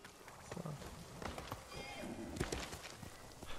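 Horse hooves clip-clopping in the video game Ghost of Tsushima, a quiet rhythmic patter of steps with a faint whinny, under a player talking.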